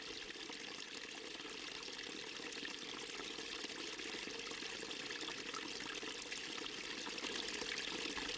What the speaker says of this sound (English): Water flows on the surface of, as well as beneath the glacier.